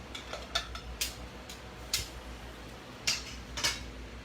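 Metal spoon clinking and scraping against a pan while stirring canned white clam sauce, a string of light, sharp taps and clicks at an irregular pace, close and fairly quiet.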